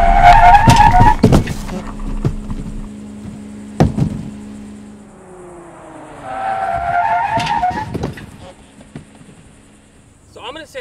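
A Subaru Outback brakes hard from 45 mph during an EyeSight emergency-braking test, with a loud engine and chime at first, then a long descending tire squeal and skid as it stops, ending in a faint beep.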